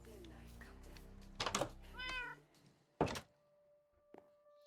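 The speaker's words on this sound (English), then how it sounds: "There's a cat on the chest." A Minecraft cat gives a couple of short meows amid game sounds, with a sharp thunk like a chest or door closing, fairly close and moderately loud.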